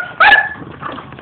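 An excited dog gives one loud, sharp bark, followed by softer whining and whimpering close by.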